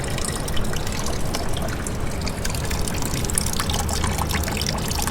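Dirty water flushes out of a Corvette Z06 cooling system as a steady, loud, unbroken gushing pour that carries on through without any voices.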